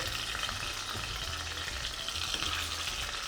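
Loud, constant sizzling of chicken skin frying in hot oil, crackling evenly without pause.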